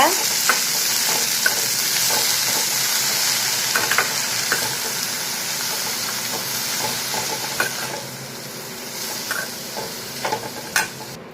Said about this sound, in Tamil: கீரை பூண்டு எல்லாத்தையும் இதில் போட்டு நல்லா வந்து வதக்கி விடுங்க